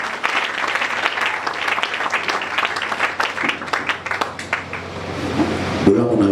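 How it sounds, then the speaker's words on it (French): A church congregation applauding, dense sustained clapping that thins out toward the end, with voices heard beneath and after it. "Acclamons pour le Seigneur"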